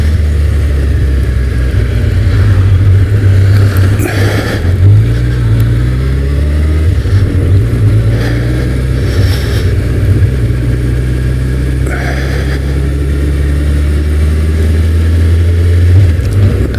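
Engine of a Suzuki GSX-1300 motorcycle while riding, a loud continuous drone close by with rising and falling revs and wind buffeting over it.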